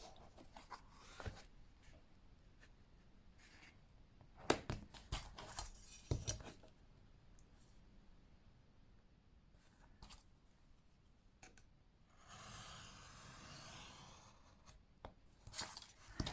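Scissors cutting a thick 2mm journal cover material: quiet, intermittent snips and rustling scrapes, with a longer rubbing pass near the end, close and soft.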